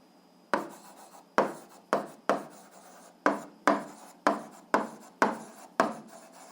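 Pen or marker strokes writing out an algebra solution, heard as about ten sharp, close scratching strokes in an uneven rhythm with quiet pauses between them, no talking.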